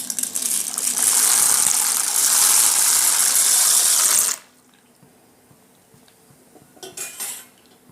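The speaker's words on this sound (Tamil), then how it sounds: "இப்போ தண்ணி நல்லா கொதிச்சிருச்சு. இப்போ நம்ம பாஸ்தா போட்டுக்கலாம்." Water hisses and bubbles loudly in a pot as pasta is added to the boil, then drops away to near quiet, followed by a brief clatter of kitchenware.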